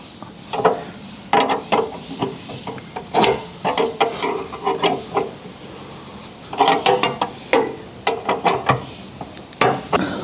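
A hand ratchet loosens a cover bolt on a HUAYEE HY480D mini skid steer with a 23HP Briggs & Stratton engine. Close, loud bursts of rapid clicking come in two runs separated by a short pause.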